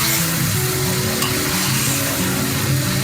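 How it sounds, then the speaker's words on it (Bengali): A loud, continuous broad hiss of chicken frying in hot oil over a high gas flame, steady and dense throughout with a low rumbling undertone. "এই চিকেনটাকে এখন ভালো করে ভেজে নিতে হবে।"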